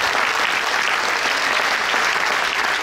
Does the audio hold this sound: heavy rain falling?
no